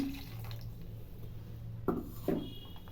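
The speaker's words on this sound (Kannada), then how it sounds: "ಇವಾಗ ನೀರು ಹಾಕ್ತಾ ಇದ್ದೀನಿ" Water is added to a pan of egg sambar, heard as a faint low hum of the kitchen followed by two short splashy pours near the end, quiet and close.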